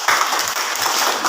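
Classroom of students applauding a classmate in an Indonesian school lesson, brief moderate clapping with uneven bursts from a small group.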